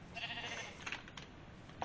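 A sheep in the Minecraft video game bleats in a couple of short, faint calls, with brief game sounds in between.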